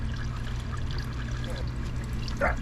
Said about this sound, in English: I put a little bit of oil, poured some in the middle.